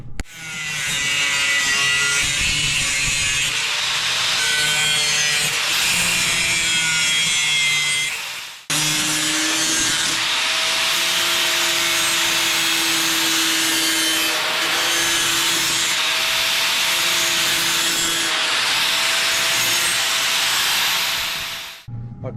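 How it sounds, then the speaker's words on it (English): Angle grinder cutting a sheet metal side panel for an adventure bike, a loud sustained abrasive whine and hiss with a steady motor tone, briefly cutting out twice before resuming. "get the grinder fired up"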